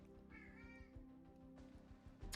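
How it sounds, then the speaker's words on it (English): A pet cat meows a couple of times in the background, faint and short drawn-out cries within a quiet room. "My cat is being very vocal."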